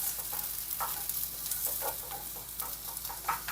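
Plantains sizzle and crackle in a frying pan while being stirred, with close, scraping bursts of spoon against pan over a constant fry hiss.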